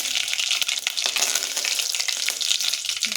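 Mustard seeds and curry leaves fry in hot oil with a steady, close, crackling sizzle that holds evenly throughout, with no voices over it.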